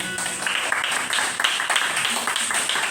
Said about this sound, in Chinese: 请给自己掌声鼓励